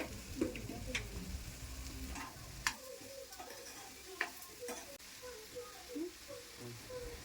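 Minced mutton kheema is stirred in a pan with curry leaves and salt, a soft steady sizzle under sharp metallic scrapes and taps of the spoon, with brief low rumbling early on.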